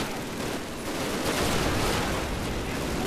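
Dense, continuous gunfire aimed at the player in the video game Call of Duty, a wall of rapid overlapping shots and rattling bursts filling the whole stretch at a steady, loud level.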